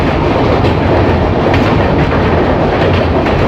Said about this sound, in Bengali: গৌরাঙ্গ নদী পার করছে আমাদের ট্রেন এখন